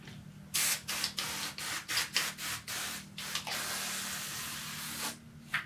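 Tire mounting lube sprayed from a can onto a tire bead and mounting head, heard as a burst of short hissing spurts in an irregular rhythm, then one long sustained spray and a final brief squirt, close and fairly loud.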